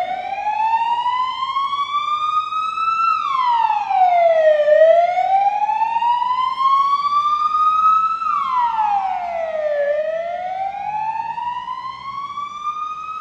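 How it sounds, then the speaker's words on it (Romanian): A loud ambulance siren wails as it departs, sweeping slowly up and down in long cycles, close and steady, with no voices underneath. "Pleacă salvarea."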